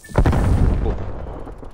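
A loud, close shotgun blast booms in the Call of Duty Black Ops Cold War video game, followed by a rumbling tail that fades over the next second and a half.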